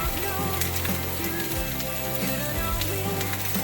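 Onions and vegetables hit hot oil for a Philly cheese steak, giving a steady, close crackling sizzle with dense bubbling that runs the whole time, along with low kitchen clatter and no voices.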